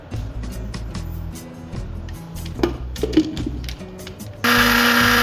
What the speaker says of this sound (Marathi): आता हे चांगलं मिक्सरला आपल्याला फेटून घ्यायचं आहे